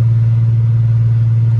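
A Mercedes W210 with a V6 engine hums steadily while driving, a loud continuous low drone with no change in pitch.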